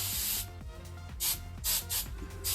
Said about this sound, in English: I like to do a final spritz